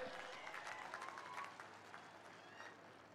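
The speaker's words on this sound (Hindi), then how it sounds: "सभी लोग ताली बजाकर उनको अभिनंदन दीजिए" Audience clapping to mark a birthday at a political stage event, a steady wash of applause from a large crowd that stays sustained throughout, easing slightly in the second half.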